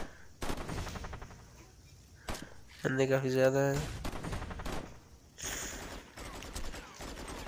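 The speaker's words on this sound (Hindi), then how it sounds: "MP5 से इनके ऊपर गोलियां चला रहे हैं" Bursts of MP5 submachine gun fire ring out in the Wheelman video game, rapid crackling volleys among other game effects, with someone talking over the action.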